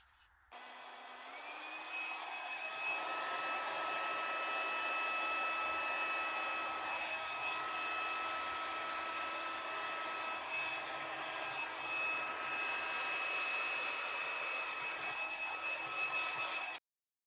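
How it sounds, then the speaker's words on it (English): Hair dryer blowing steadily on acrylic paint poured over a ceiling fan blade, a continuous close whoosh with a high whine that runs unbroken for about fifteen seconds before cutting off. "show you what I mean about the blow dryer"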